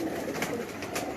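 A short, close coo from a pigeon kept by a Karachi pigeon fancier, a single soft rolling call over steady low background noise.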